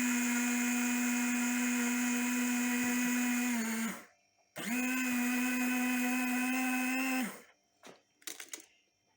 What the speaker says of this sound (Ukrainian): намолола горіхів і вже буде молоти